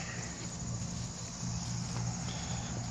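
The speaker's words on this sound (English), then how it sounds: "There's bees flying there." Continuous dense buzzing of honeybees around a hive box, steady and close, with a low hum underneath and no voices.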